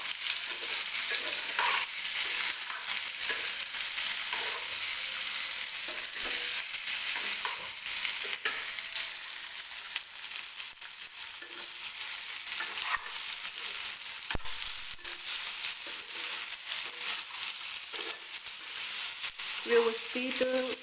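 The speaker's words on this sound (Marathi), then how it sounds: "व्यवस्थित दोडका परतून घ्यायचा आहे तेलात आपल्याला." Stuffed ridge gourd sizzles in hot oil in a pan, a steady close frying hiss with occasional scraping stirs running throughout and no speech.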